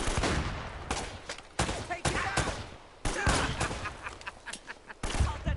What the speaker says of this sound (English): Who's shooting from above?